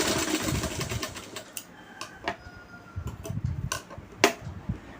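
A sewing machine stitches the hem of a pant bottom, running in uneven bursts of close mechanical clatter with sharp ticking clicks between stretches.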